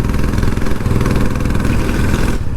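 A Royal Enfield Classic 350 motorcycle runs through its exhaust with a loud, close, steady thumping idle that throbs evenly, then cuts away just before the end.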